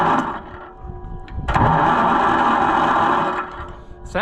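An Oliver 1250 tractor engine cranks over on an experimental starter, a rough churning whir that surges louder after a sharp clunk and holds steady for a few seconds, heard up close without talk.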